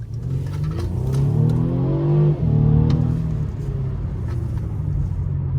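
A Mercedes-Benz C300 engine revs hard under full throttle, its rising roar dipping briefly at a gear change before climbing again, loud and close.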